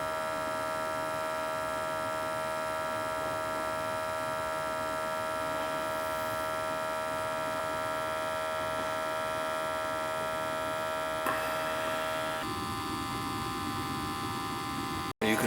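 A gas boiler runs steadily during a service and combustion test, giving a constant electrical hum with a faint hiss, unchanging for most of the stretch before a brief shift near the end; no one speaks.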